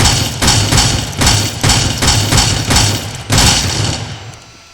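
Rapid video-game gunshots in a gun showcase fire as about eight loud, evenly spaced broadband bursts with heavy low thumps, then stop and leave a quieter tail.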